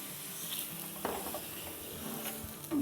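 Mutton pieces sizzle and are stirred in hot oil with salt in a Peshawari karahi, a steady close frying hiss with a few scraping stirs and a brief clank near the end.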